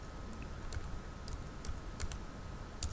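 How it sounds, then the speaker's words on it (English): Light, irregular keystrokes tap on a computer keyboard as a school motto is typed into a Microsoft Word document, the clicks quiet and close over a faint steady hum. "then you type your school motto"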